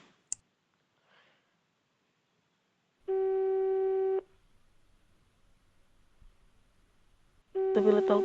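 Telephone busy signal in a video game, a steady electronic tone sounding for about a second, a gap of quiet with faint clicks, then the tone returning louder.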